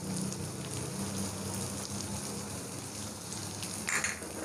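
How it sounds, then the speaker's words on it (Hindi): Onions and garlic fry in ghee with a dense, steady crackling hiss close by, like rain on a surface, and no voice over it. "लहसुन को भी फ्राई कर लेंगे।"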